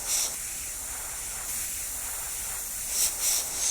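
Airbrush hissing as it sprays color paint over a stencil on a custom skull art piece, a steady faint airy spray with short louder bursts near the start and end.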